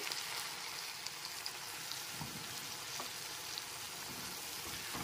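Water poured onto ground spices frying in a pan gives a steady, even sizzle and bubbling hiss that runs close and continuous, with no talking.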